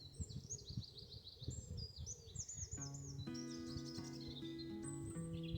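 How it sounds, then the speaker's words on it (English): Bright chirping birdsong outdoors in wind, rapid trills and whistles from several birds, with a few low sustained tones mixed in partway through. "Just birdsong and wind."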